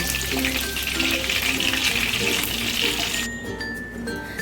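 Chicken pieces frying in oil for a crispy restaurant-style starter, a dense, loud, continuous sizzle close at hand that drops off sharply near the end, no voices.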